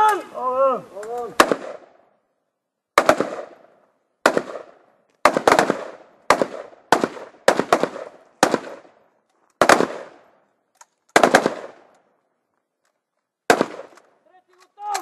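Rifles firing at a commando shooting range during a competition: about a dozen sharp, loud shots spaced irregularly, some in quick pairs, with silence between and a shouted voice at the start.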